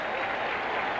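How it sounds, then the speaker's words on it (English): A baseball crowd at Shea Stadium cheers steadily for a Mets strikeout, a dense, continuous roar of applause and voices with no single voice standing out. "Every time he gets 2 strikes on a hitter, as you hear in the background, the crowd, they want strikeouts."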